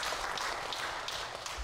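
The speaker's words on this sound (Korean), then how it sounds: "박수 한번 칠게요" Brief, faint scattered clapping inside a church during a Sunday worship service, a soft, uneven patter of a few hands rather than full applause.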